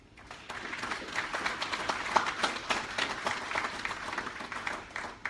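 A modest crowd at a Nigerian nurses' charity gathering in the UK applauds to welcome a speaker, a steady patter of clapping at moderate volume throughout.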